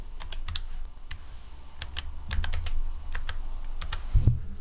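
Quiet, irregular tapping of computer keys, short bursts of keystrokes with brief pauses, close and soft.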